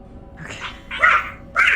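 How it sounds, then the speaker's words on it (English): Small dogs in a video game yap like chihuahuas, three short high barks in quick succession, close and fairly loud with no talk over them. "they sound like little chihuahuas."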